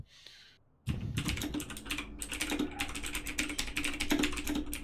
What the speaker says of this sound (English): I'm typing caps right now